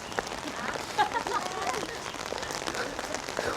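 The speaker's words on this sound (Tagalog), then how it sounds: "Lakas ang ulan." Heavy rain pours steadily onto surfaces nearby, a dense hiss with scattered droplet ticks, moderately loud throughout.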